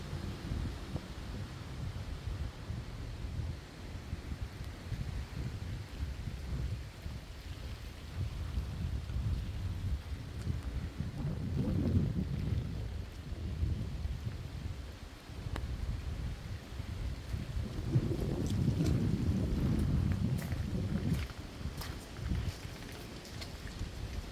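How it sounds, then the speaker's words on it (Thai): Steady rain falls outdoors in the UK as gusts of wind swell and fade, with a continuous rushing wash of rain and louder gusts rising twice. "ฝนตกฝนตก"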